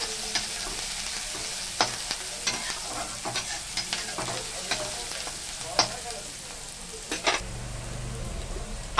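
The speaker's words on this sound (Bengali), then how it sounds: "এটা এবার ভেজে নেব 2 মিনিট, পেঁয়াজ কাঁচা লঙ্কাটা।" Chopped onion and green chili fry in a pan with a steady, close sizzle, broken by frequent sharp clicks and scrapes of stirring.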